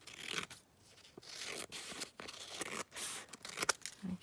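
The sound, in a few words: cutting paper for a Christmas journal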